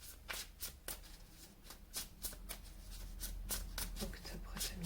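Tarot cards are shuffled for a reading in a run of quick, crisp riffles and flicks with an uneven rhythm, close and fairly quiet, with no voice over them.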